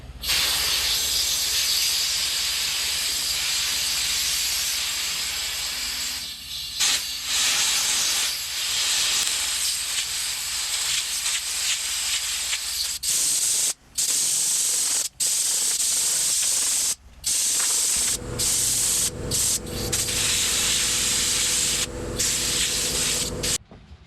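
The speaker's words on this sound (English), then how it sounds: "We'll blow this filter out real quick and see how nasty that is" Compressed air blasting through the filter of a Takeuchi TB260 excavator, a loud sustained hiss lasting throughout with several brief cutoffs as the nozzle stops and restarts, no talking.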